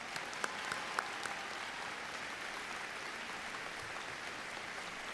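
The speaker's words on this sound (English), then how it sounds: "Please give all of these students a collective round of applause for their achievement." Sustained applause from a graduation ceremony crowd, a steady wash of clapping with a few sharper individual claps near the start.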